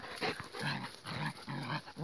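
A Kangal dog and a neighbour's dog fighting, with repeated low growls and snarls coming in close, rhythmic bursts and no talking.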